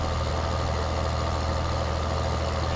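Tractor engine idling in the farming game Landwirtschafts-Simulator 2013, a steady low diesel drone with a constant hum and no variation, alone without talk.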